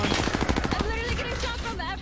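Rapid gunfire cracks in a video game, with sniper shots coming from a tower, a burst of repeated shots early on before denser game noise and tonal effects take over, while a voice talks over it.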